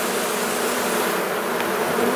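Agitated honeybees buzzing densely around a beekeeper's gloves, a loud, continuous, close-up roar of many wings with no pauses and no voices.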